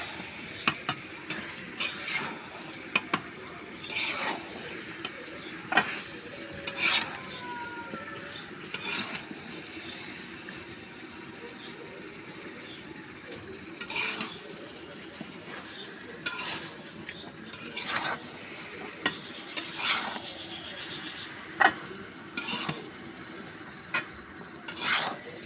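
Beef with taro stirred and sautéed in a pan, lid repeatedly put on and lifted, with intermittent scraping strokes and clinks of a spoon against the pan over a low steady sizzle.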